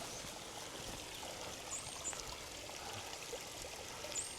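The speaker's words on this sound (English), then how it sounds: "Looks like we got us a nice little cascade waterfall here." A small cascade waterfall beside a hiking trail, a steady close rush of falling water with a constant broadband hiss, a few faint bird chirps above it and no speech.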